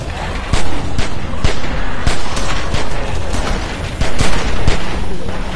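Rapid, dense gunfire from several weapons rips through a chaotic fight against an approaching horde of walkers in The Walking Dead video game, with sharp repeated cracks piling up close and loud over a constant din.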